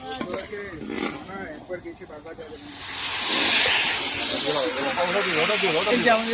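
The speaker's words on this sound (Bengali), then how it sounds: "এটা আমাদের আলুর দমের মশলা কষা হচ্ছে" Aloo dum spice masala is sautéed in a pan for a picnic feast, and a loud, steady hissing sizzle takes over halfway through, with voices talking before and during it.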